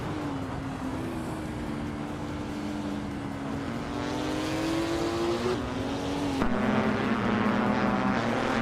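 Race cars run nose to tail with a steady engine drone whose pitch wavers. Near the end it shifts to a louder, higher whine as another car closes in.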